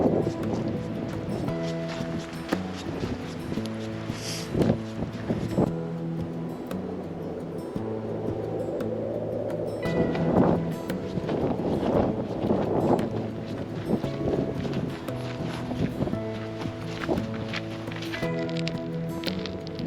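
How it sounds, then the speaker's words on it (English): Strong gusting wind at the Bumpass Hell trailhead in volcano country, buffeting the microphone in a continuous rough roar, with tonal rumbles and swells rising and falling across the whole stretch. "The wind at the trailhead to Bumpass Hell is merciless and unrelenting"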